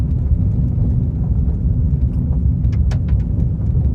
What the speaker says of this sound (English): I'm in a Chevy Spark 2021, little bitty 4-cylinder thing, 98 horsepower